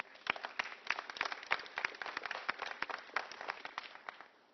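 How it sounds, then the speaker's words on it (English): A crowd applauds a city transition team at a press conference in Jackson, steady dense clapping from many hands throughout, moderately loud and even, without talking over it. "I'd like to start by giving them a round of applause"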